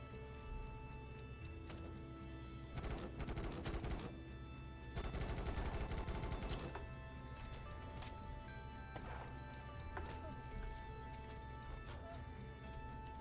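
Assault rifle fire in a ghost-hunting exorcism video game, with bursts of rapid shots clustered around a few seconds in the middle, over a continuous game soundtrack.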